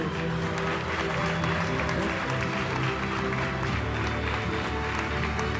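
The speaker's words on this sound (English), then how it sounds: "a resounding round of applause for our recipient, Dr. Angela" Sustained audience applause fills the hall at an awards ceremony honoring a mathematics recipient, steady and dense throughout, with music or background tones underneath.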